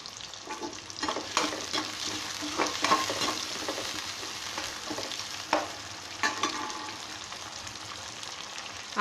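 Shallots and curry leaves sauté in a pan for Tamil tamarind egg curry, a soft, steady sizzle with intermittent spoon scrapes and taps against the pan, fairly quiet and without voices.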